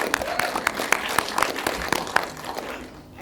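An audience at a women's film festival panel event claps steadily for a few seconds, the applause fairly close and sustained before tapering off at the end.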